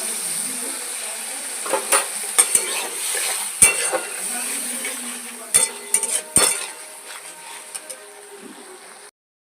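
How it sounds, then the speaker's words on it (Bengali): Spice masala sizzles in oil in a home kitchen while a spoon stirs it, scraping and clinking against the pan in repeated sharp knocks over a steady frying hiss. "মশলাটা ভালো করে কষিয়ে নেব"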